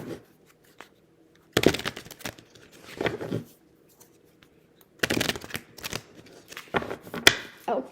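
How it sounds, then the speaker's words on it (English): Tarot cards are ruffle-shuffled in two quick bursts of crisp, fluttering riffles, close and alone, with brief pauses between. "give these cards a ruffle shuffle"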